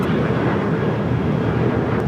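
A jet airliner's engines rumble at LAX, a dense, even roar from a fairly close aircraft that holds steady for a couple of seconds with no voices over it.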